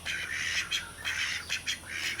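Ducks kept at a village home squawk and quack in repeated bursts, fairly loud and near, with no talking over them.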